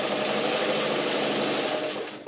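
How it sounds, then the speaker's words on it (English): A sewing machine runs continuously, joining two fabric strips with a quarter-inch seam, a close, steady high whir that stops abruptly near the end. "So now that we've sewn these 2 strips together with a 1/4 inch seam"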